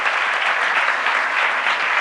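Brief, dense applause from an audience at a talk, many hands clapping together at an even, close, full level with no pause.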